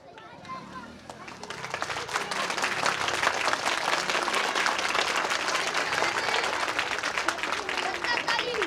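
Sustained audience applause at a Hindi-speaking ceremony, offered as 'rain clapping' in honour of someone, building over the first two seconds into dense, steady clapping with faint crowd murmur underneath.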